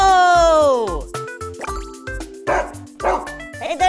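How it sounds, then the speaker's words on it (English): Small dog yipping and barking in a video game, a quick series of short, bright barks up close over a bouncy game soundtrack with pulsing beats and dripping sound effects. "Hey, there's a dog."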